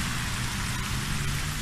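Rain falls steadily outdoors in the ejido Matamoros, a dense, even hiss of drops with a low rumbling undertone, unbroken and fairly close throughout the short stretch.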